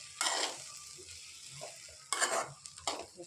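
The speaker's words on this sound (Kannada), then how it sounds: "ಹಾಕಿ ಫುಲ್ಲು ಮಿಕ್ಸ್ ಮಾಡ್ಕೊಳ್ತೀನಿ." A spoon stirs masala chitranna rice mixed with lemon juice in a pan. Several close scraping and sizzling strokes come in short bursts between quieter pauses, with no talking.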